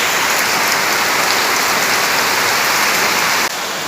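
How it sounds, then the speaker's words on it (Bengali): Heavy, steady rain pours down on a village cowshed area, loud and close, a dense continuous hiss throughout. "এই যে দেখুন আবার বৃষ্টি শুরু হয়েছে"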